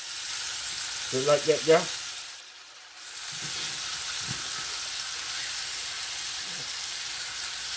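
A T-bone steak frying in a pan with butter and garlic gives a steady sizzle throughout, with a brief voice near the start and a few soft stirring knocks.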